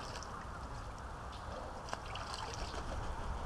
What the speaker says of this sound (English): that's survivor duck washing herself